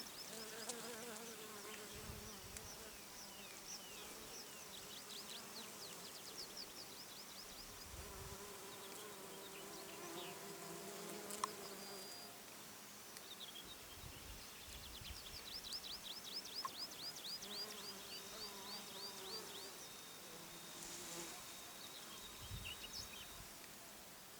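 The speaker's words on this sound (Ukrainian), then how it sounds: "Дивіться, як працюють бджоли." Bees hum steadily around thyme flowers outdoors in the steppe, the buzzing swelling as individual insects pass close, with faint birdsong in the distance.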